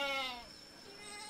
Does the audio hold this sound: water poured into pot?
no